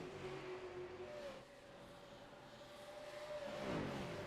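A race car engine in the iRacing sim at Dover Motor Speedway holds a steady high-pitched drone as the car pulls out of a corner. The pitch climbs near the end as it gains speed, loud and continuous with no talking.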